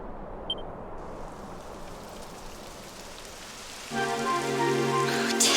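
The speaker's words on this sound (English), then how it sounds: "It would have to go and start raining, wouldn't it?" Rain falls in the video game Dragon Quest XI as a steady, close patter on surfaces throughout, with a soft musical tone rising in the last seconds.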